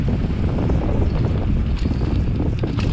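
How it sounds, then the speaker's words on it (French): Strong, steady wind roars across the microphone of a bike rolling over bumpy gravel, a dense low rumble that fills the whole stretch without a break. "je sais pas si tu m'entends avec le vent"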